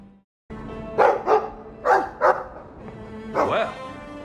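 Five barks from a dog in the Dragon Age video game, loud and close, with short gaps between them and a pair coming in quick succession, over a low steady background hum.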